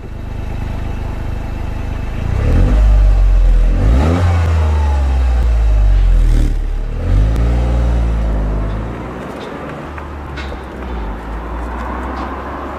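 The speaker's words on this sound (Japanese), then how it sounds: "ノーマルマフラー低速。" Toyota GR Yaris with its stock muffler, driving at low speed: a steady low exhaust drone rising through several clear revving upshifts and throttle blips, close and loud, with no talking.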